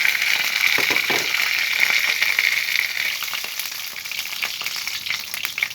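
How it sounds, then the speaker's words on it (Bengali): A ladle coated with a little rice starch sizzles loudly in hot oil, a steady bright crackle with scattered sharp pops that eases off slightly toward the end, with no voices. "তো হাতাটার মধ্যে একটু ভাতের মার লেগে আছে, তাই কিন্তু গরম তেলের মধ্যে কীরকম করছে।"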